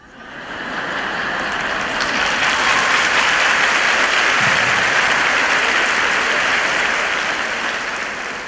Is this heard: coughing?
no